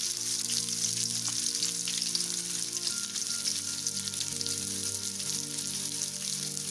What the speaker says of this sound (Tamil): எண்ணெய் காஞ்சதுக்கப்புறம் வெங்காயம் போட்டு வெங்காயத்தை